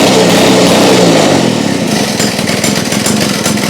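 A Victa two-stroke go-kart engine runs after a pull start, a loud, close, buzzing drone that holds steady and then settles into a slightly rougher idle.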